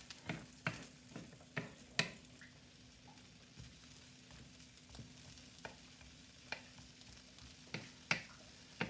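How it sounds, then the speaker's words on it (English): Smoked pancetta fries over low heat in a pan, a steady soft sizzle broken by regular sharp clicks of a utensil stirring and scraping, fairly quiet and with no talk. "I'm going to start cooking the pancetta."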